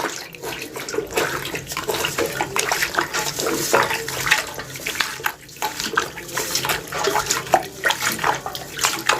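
An aquarium filter being rinsed and squeezed in a tub of tank water, with steady splashing, sloshing and dripping close by throughout, no voices.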